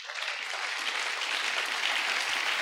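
Sustained applause from a church congregation during a French-language sermon, a steady dense patter of many hands clapping together without pause.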